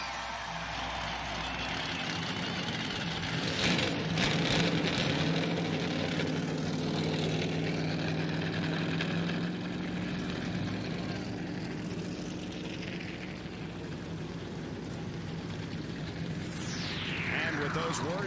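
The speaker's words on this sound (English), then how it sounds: "gentlemen, start your engine!" NASCAR Winston Cup stock cars fire up at California Speedway for the 2000 NAPA Auto Parts 500, a dense, sustained engine roar with rising revs and a passing whine near the end, under crowd and announcer talk.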